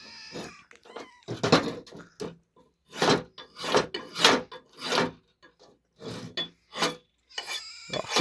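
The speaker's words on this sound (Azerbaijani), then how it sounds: "Baltanı itik gedək." An axe blade is sharpened by hand with a run of about a dozen close, rough rasping strokes in an uneven rhythm, separated by short quiet gaps.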